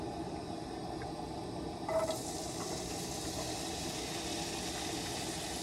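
Seasoned jerk chickpeas frying in a pan inside a van, a faint steady sizzle with a brief clatter as they go in, then a louder, brighter hiss continuing alone.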